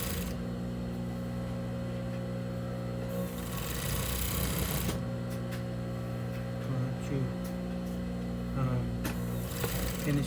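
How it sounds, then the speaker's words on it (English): An overlock serger sews a blind-stitch hem on a T-shirt, a steady low mechanical hum with faint rapid stitching, running quietly and evenly with brief bursts of louder whirring. "overlock sewing machine."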